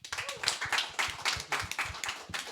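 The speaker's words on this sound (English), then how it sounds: "give him a round of applause" A small audience applauding at a fireside chat on sustainable innovation, with loud, close, rapid hand claps in an uneven steady rhythm.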